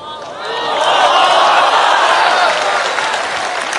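A crowd at a religious lecture claps steadily, a dense wash of hands that swells early and holds for several seconds before easing slightly.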